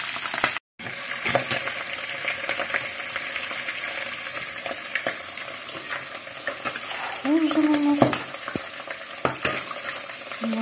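Potatoes and pork fat sizzle steadily in a pan, a constant bright hiss with occasional scrapes and clinks of stirring close by.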